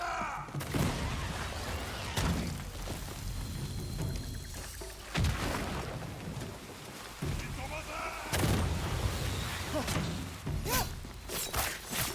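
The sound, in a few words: rocket launcher fire in the video game Ghost of Yotei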